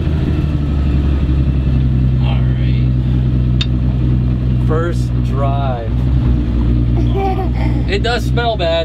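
A 1963 Chevy C10 pickup with a carburetor needing tuning drives along with a steady, low engine rumble, while people talk over it throughout.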